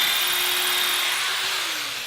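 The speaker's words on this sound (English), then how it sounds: "now I just need to drill another hole." Power drill boring a hole in wood for a homemade cockatiel bird stand, a steady high motor whine held close and loud for about two seconds, its pitch sagging slightly near the end as the bit works through.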